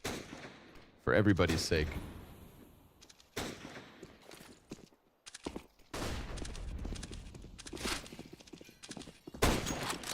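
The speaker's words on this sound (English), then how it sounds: "Scout shots whizzing outer." Scout sniper rifle shots crack out in a Counter-Strike match, several sharp bursts spread across the clip amid game noise. Commentators talk underneath.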